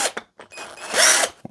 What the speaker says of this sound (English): When you drill through, you'll get all these little rough edges, and those are no good.